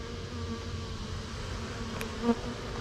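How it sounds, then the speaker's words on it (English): Honeybees buzz steadily from an opened hive, a continuous close drone with a brief louder flick of wings near the end. "the way these bees are chilling out"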